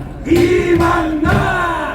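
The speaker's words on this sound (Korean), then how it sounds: "큰 박수 부탁합니다" A rally crowd cheers and shouts together in a loud, sustained swell of voices lasting the whole moment, rising twice as the calls repeat.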